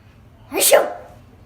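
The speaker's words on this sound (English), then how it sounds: "The tired sneeze." A single tired-sounding human sneeze, a short breathy build-up breaking into one loud achoo burst that quickly fades, close to the listener with no other speech.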